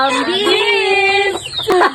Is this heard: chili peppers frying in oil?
no